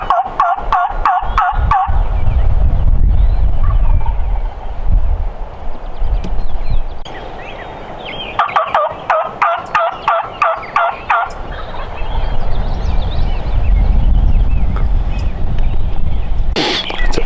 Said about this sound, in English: and here come my 2 gobblers.